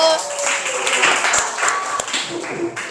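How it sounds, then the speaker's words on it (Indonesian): Group 1 in a classroom gets a short burst of clapping from the students, a dense patter of hand claps mixed with a few voices. "Tepuk tangan untuk kelompok 1"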